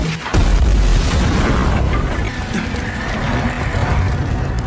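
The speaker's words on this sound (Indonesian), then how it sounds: "Drasa pun mengambil senjata peledak untuk menciptakan lubang besar" A loud, close boom from an explosive weapon blasting a big hole. It hits hard and then leaves a long, rumbling, noisy wash that fades slowly, with no speech.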